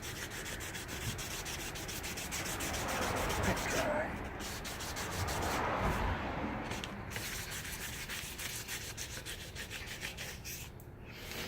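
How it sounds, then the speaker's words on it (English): Weathered, sun-baked plastic being hand sanded with 2000 grit sandpaper, a continuous soft back-and-forth rubbing scrape, close and steady throughout. "Now I'm going to hit with the 2000 grit sandpaper."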